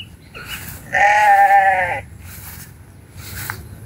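A goat, one of two kept together, lets out a single loud, wavering bleat close by, with faint shorter calls before and after against quiet background noise.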